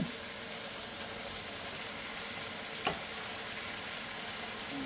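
String beans sizzle in hot oil in a pan, a steady broadband frying hiss that holds across the whole stretch with one brief sharp crackle near the middle, fairly quiet and with no talking.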